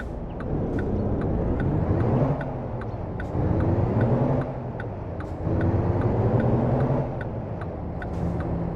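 Road traffic in the driving game American Truck Simulator: engines of passing vehicles rise and fall in several swells, with a steady rhythmic ticking like an indicator running throughout, fairly close, no talk.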